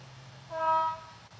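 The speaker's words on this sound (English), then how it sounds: "That was a random honk." A single short, steady horn honk, lasting about half a second, sounds at moderate distance over a low background hum.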